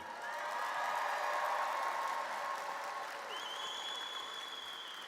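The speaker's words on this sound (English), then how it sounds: "graduates, please give a warm round of applause to all the special people who have been there for you every step of the way" Sustained applause fills a hall at a medical school commencement, a large audience clapping evenly and loudly throughout, with faint tones and murmurs above the clapping.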